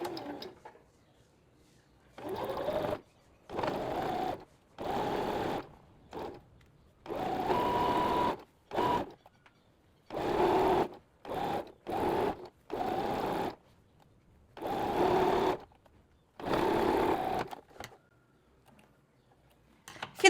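A sewing machine stitches a hem in short bursts of rapid, even whirring, stopping and starting about a dozen times with quiet gaps between runs, close and clear with no talk.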